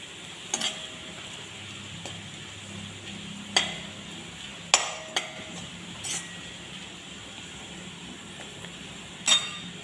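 A vegetable sautés in a pan with chutney and salt, a soft steady sizzle broken by several sharp clinks of a spatula against the metal and occasional stirring scrapes, close up and with no voices.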